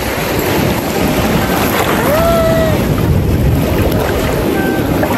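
Ocean waves and wind at sea off Bolinao, Pangasinan, heard from a boat as a constant loud wash of surf and wind noise with a faint short whistle-like tone partway through.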